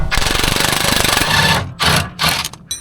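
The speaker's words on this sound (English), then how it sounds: "now let's do the rest of that with a gun" An impact gun works on the front control arm bolts of a Skoda Karoq: a loud, rapid rattling hammer for about a second and a half, then several short, sharp bursts.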